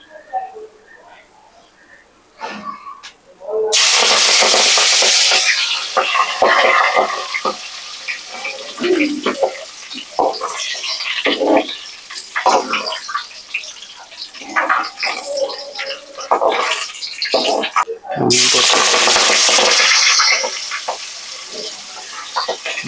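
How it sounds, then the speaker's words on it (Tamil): Two loud bursts of hissing, crackling sizzle as wet palak spinach leaves hit hot oil, with a person talking quietly in Tamil between and over them. "பொரிக்கும் போது கொஞ்சம் பார்த்து பொரிங்க."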